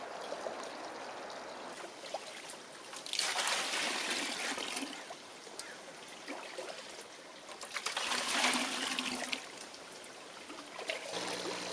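Compost tea water poured out onto a garden, a steady trickling splash that swells twice, running alone without voices.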